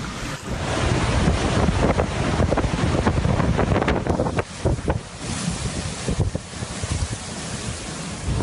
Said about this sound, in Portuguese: o furacão está passando bem forte agora, muito barulho